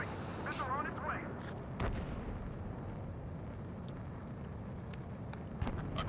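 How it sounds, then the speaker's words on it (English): Missile strikes and explosions in the Ace Combat 7: Skies Unknown video game, a steady rumbling roar with a sharp blast near the start and scattered distant pops, plus a short warbling tone at the outset. "Missile on its way."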